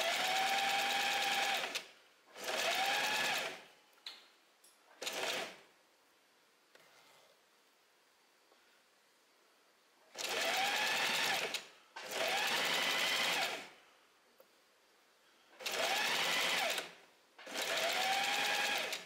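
A sewing machine stitches a skirt's fabric close to the zipper teeth in several loud, steady bursts of rapid mechanical whirring, each lasting a second or two, separated by quiet pauses as the fabric is repositioned.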